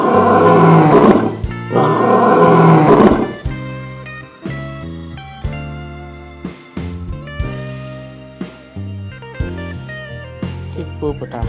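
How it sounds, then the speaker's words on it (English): A tiger roars loudly and harshly for a few seconds from a children's toy that plays animal sounds, then a bright plucked melody of tonal notes follows. "Tiger."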